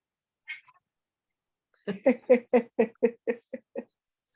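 A cat meows in a quick series of about eight short, evenly spaced calls, preceded by one brief faint call, close and clear against a quiet background.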